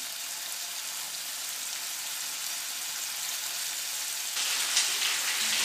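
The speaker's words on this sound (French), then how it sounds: "nos côtes et nous allons les placer à feu moyen pour une cuisson rosée" Lamb chops from Sisteron frying in a pan over medium heat, a steady, even sizzle that crackles on alone without any talk and grows slightly louder and brighter near the end.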